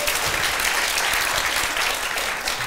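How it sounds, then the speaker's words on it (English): A theatre audience at a Q&A with Andrew Scott breaks into applause, a loud, sustained patter of many hands clapping that holds steady for nearly three seconds before tapering slightly. "You can applaud,"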